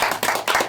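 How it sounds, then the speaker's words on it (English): Short burst of audience clapping at an awards deliberation gathering, a few quick hand claps in a brisk uneven rhythm, close and fairly loud, with no talking over it. "You gotta stop talking during the clapping so Don can make an edit."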